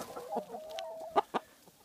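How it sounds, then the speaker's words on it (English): Chickens cluck softly nearby, with drawn-out murmuring calls and two sharper clucks standing out. "So these are the super worms I'll be giving my chickens tomorrow."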